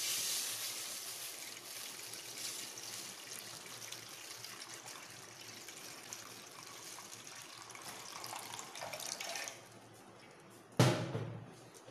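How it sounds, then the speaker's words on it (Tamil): Tap water runs steadily into a vessel for a Tamil-style pineapple gravy, a continuous close hiss and trickle lasting most of the time before it cuts off, followed by a brief clatter. "ஸோ இப்போ நம்ம தேவையான அளவு தண்ணி எடுத்துக்கிறோம்."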